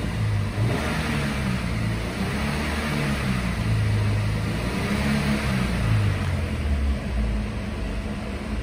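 A 2012 Subaru Impreza with a manual transmission revs in a wooded spot, its engine holding a steady, loud mid-pitched drone with slight swells of revving and no voices over it.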